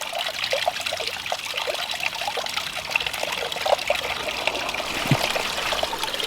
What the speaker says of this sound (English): We're getting a lot of splatter from the waterfall.